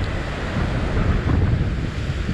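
Ocean surf breaking on a shore at high tide during a sea fishing outing, a continuous loud wash of waves with steady wind noise on the microphone throughout.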